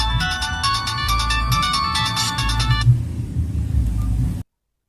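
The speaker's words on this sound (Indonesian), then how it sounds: "Oke, nada dering terdengar ya." A Nokia 215 mobile phone plays its classic ringtone, a bright, repeating melody for about three seconds over a steady low rumble of road traffic, then stops.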